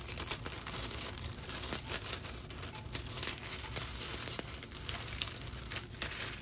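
Steady close crinkling and rustling of holographic transfer foil being peeled off a cooled tumbler, continuous with occasional sharper crackles.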